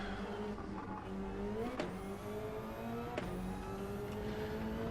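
Mazda race car in a racing video game, engine droning steadily with harmonic lines climbing then dropping sharply at two downshifts, constant and loud throughout with no talk.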